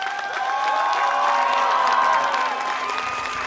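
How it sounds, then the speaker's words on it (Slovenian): A crowd gathered to honour retiring Slovenian ski jumper Peter Prevc cheers and applauds, a loud sustained wash of clapping, whoops and children's shouts that swells in the middle and fades slightly at the end. "Dajmo en velik aplavz"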